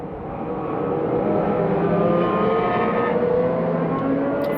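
A motorcycle engine revs and passes by, a loud, steady drone that swells early and holds, with rising and falling pitch and no talking over it.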